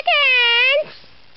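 A single loud, close cat meow, rising then falling over most of a second, followed by quiet.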